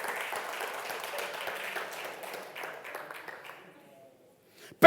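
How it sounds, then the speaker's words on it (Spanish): Applause from a church congregation, moderately loud and fading out over a few seconds into near silence before a sharp sound at the very end. "Dale un aplauso al Señor"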